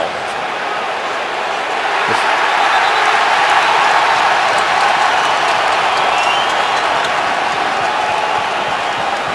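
Stadium crowd at a 2012 NFL game, 49ers at Patriots, reacting with a broad, steady roar and scattered applause that swells slightly and holds, with commentators talking over it.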